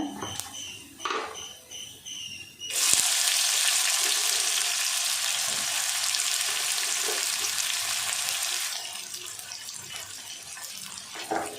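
Sliced big onions hit hot oil in a pan for egg gravy, bursting into a loud, steady sizzle that holds for several seconds and then eases slightly, close up, after some faint kitchen clatter.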